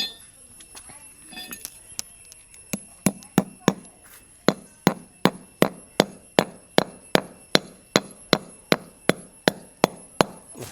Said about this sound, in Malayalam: ഇങ്ങനെ ആണി അടിക്കുക, ആണി ചെയ്യുക